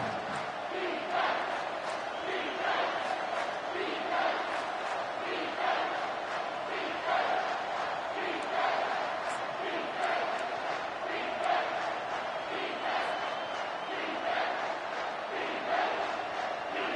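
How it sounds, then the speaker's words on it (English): The stadium crowd roars continuously at a college football game between Florida and Texas in NCAA 25, a dense wall of cheering and chanting with rhythmic pulses that stays loud and steady throughout. "with this place rocking, the crowd forces a false start"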